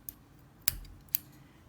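Scissors snip off a yarn end while crocheting an amigurumi banana: three short, crisp, close clicks, spaced about half a second apart, in a quiet room.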